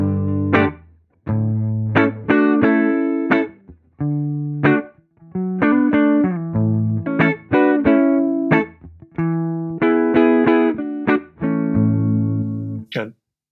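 Clean electric guitar played through the free UA Showtime amp plugin, a run of plucked notes and chords with short pauses between phrases, bright and punchy, close and loud with no talking.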